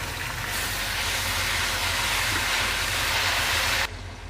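Garlic ginger paste sizzling in hot oil, a loud, steady, close frying hiss that runs unbroken and then drops off abruptly near the end.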